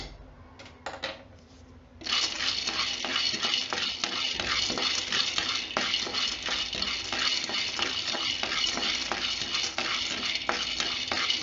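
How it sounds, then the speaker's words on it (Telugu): Peanuts frying in a pan for tamarind-leaf chutney, a few light clicks giving way to a loud, continuous close sizzle with rattling nuts as they are stirred, no talk. "ఇప్పుడు వేయించుకున్నాము పల్లీలు."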